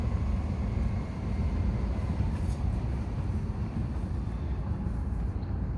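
A train passes as a continuous low rumble and roar, steady and fairly loud, with a faint higher tone brushing over it.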